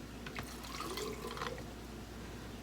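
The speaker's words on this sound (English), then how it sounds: "The bean water going in." Liquid from cooked beans poured into a glass canning jar in a home kitchen, a faint splashing trickle with a few drips, quiet and steady, no talking.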